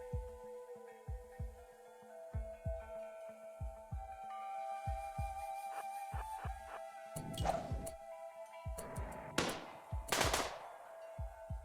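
Gunfire in the video game RimWorld, a string of evenly spaced dull thumps followed by sharper bursts of shots, moderately loud over a steady low hum.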